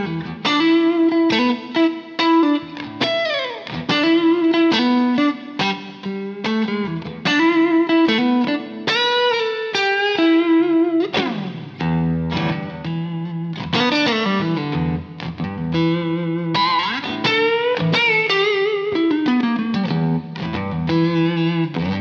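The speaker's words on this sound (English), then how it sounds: "I'm plugged into my Kemper profiler for today's episode using an AC30 profile as normal." A Stratocaster on its neck pickup plays a clean tone through a Kemper profiler with an AC30 amp profile and a compressor in front. The notes are picked melodic lines and chords with some chorus shimmer, played continuously and alone.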